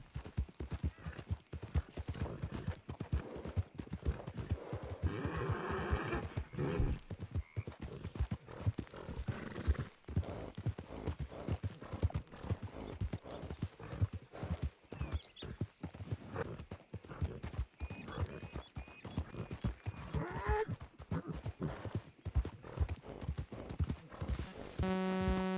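Horse hooves clip-clopping in a rapid, even cantering rhythm through a town in a video game, close and steady, with a brief whinny and faint talk now and then.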